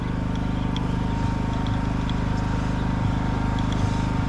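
A boat engine idling steadily at sea off Pulau Tioman during squid jigging, a continuous low throbbing drone with a faint rhythmic knock, close and unbroken.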